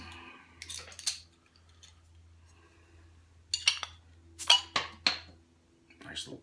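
A bottle of Singlecut Soulbender IPA is opened with a short pop and hiss, surrounded by faint clinks and handling sounds in a quiet room.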